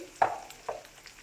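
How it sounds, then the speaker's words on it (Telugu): Chopped onions frying in a pan for a potato curry, with two quick stirring scrapes over a soft, steady sizzle, fairly close and with no talking. "కట్ చేసుకున్న ఆనియన్స్ దీనిలో వేసుకొని ఫ్రై చేయాలి"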